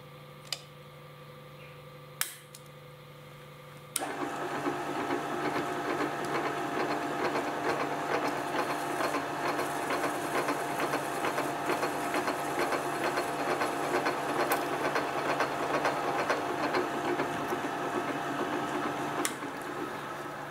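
A milling machine cuts plastic parts in a steady, continuous run with a fine rhythmic ticking texture, starting after a few brief clicks and holding at an even level to the end, with no talking.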